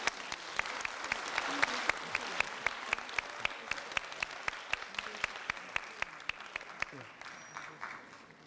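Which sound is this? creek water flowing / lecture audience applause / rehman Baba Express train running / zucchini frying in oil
lecture audience applause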